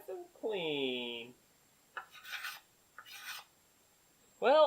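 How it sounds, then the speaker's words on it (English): A hand scraper works across a metal surface in two short, close rasping strokes. Speech comes before and after them. "Imagine that, it actually scrapes."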